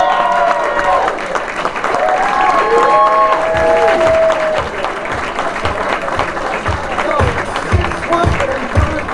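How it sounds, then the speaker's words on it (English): Sustained applause from an audience at the 2017 NYSYD Alumni of the Year awards ceremony, dense clapping filling the room steadily, with some faint voices mixed in. "Let's give a round of applause for our Alumni of the Year, Chris Smith"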